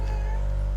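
A cat meows briefly at the vet's while being placed on the examination table for weighing, a short close vocal cry over steady low background hum.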